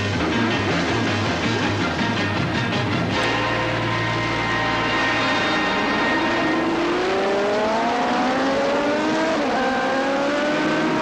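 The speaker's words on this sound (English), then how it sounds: "Right into the lead goes WesCooley, just ahead of Freddie Spencer and David Eldana" Superbike motorcycles at the start of a 1979 race at Laguna Seca, with several engines roaring loudly together and rising in pitch as they accelerate away, a dense continuous racing din throughout.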